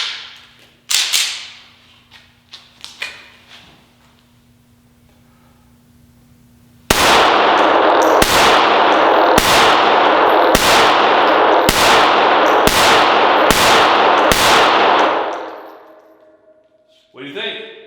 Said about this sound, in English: We're going to shoot the Smith and Wesson M&P Shield 380 EZ 8-round magazine.